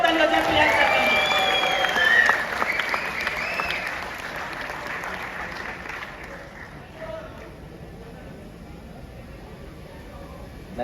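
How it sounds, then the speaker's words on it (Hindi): Audience applause for the first-place winner at a live trading competition event, a dense crowd clapping loudly at first then thinning and fading toward the end. "एक बार जोरदार ताली हो जाए"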